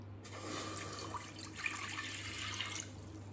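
Water runs steadily from a tap into a pot of washed rice and moong dal for sweet pongal, a soft continuous splashing trickle, close and quiet.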